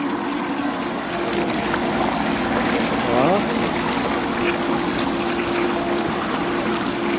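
A solar-powered water pump (poso) runs in rural Quezon, Nueva Ecija, giving a steady churning, gushing flow of water close by throughout, with people talking faintly over it.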